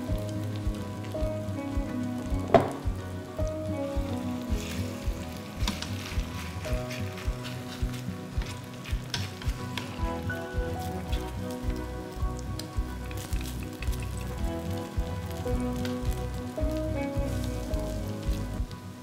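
Perilla leaf and chive pancake frying in a pan, a steady crackling sizzle like light rain with small pops throughout, close and fairly loud, no talking.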